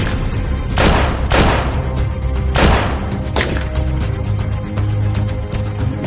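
Sniper rifle gunfire in a shooting video game: several loud, sharp broadband blasts crack out close together early on, then sparser, fainter shots follow over a continuous low rumble.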